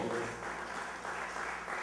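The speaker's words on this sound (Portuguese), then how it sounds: "Dê uma salva de palmas ao Senhor." Applause from a church congregation, a dense patter of clapping that holds steady for a couple of seconds, with a voice faintly underneath at the start.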